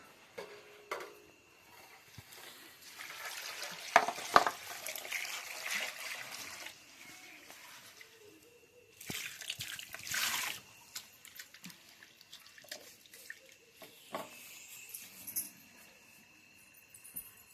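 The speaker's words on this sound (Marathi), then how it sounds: "आता घेऊन पाणी ओतून." Water being poured and trickling in an irregular, fairly quiet flow with drips and splashes in two main bursts, recorded close up in a home setting, with no talking.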